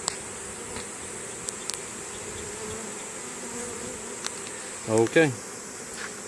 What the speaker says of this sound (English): that's a bee swarm video